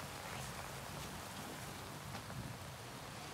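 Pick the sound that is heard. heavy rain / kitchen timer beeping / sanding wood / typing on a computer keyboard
heavy rain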